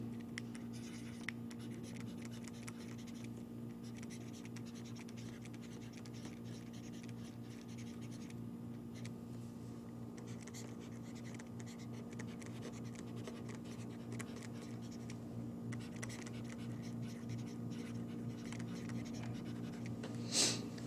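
A pen writes a geometry theorem by hand, a soft continuous scratching of strokes on paper with short pauses, close and quiet over a low steady hum.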